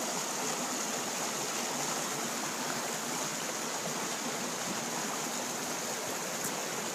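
A river stream flows steadily beside a damp rock, a close, even, continuous rush of water with no break and no voices.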